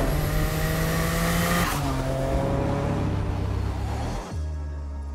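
A Bugatti EB110 Supersport supercar drives hard, its engine droning loud and close with shifting revs, a gear change partway through and a brief lift before pulling again.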